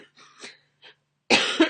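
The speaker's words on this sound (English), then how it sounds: "I have a little cough." A single short, harsh cough comes close and loud after some faint breathy sounds.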